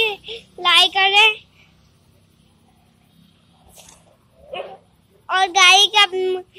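Dogs in a pack bark and scuffle outdoors on a street, with two sharp bursts of overlapping barks and yips separated by a quiet stretch and a brief whimpering sound in between.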